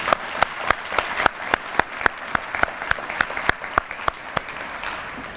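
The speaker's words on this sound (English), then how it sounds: "I'd like to give a round of applause to our amazing kitchen staff here at First Baptist Church" Applause for the kitchen staff at a Red Cross heroes breakfast held in a church, with crisp, evenly spaced loud claps standing out over softer crowd clapping.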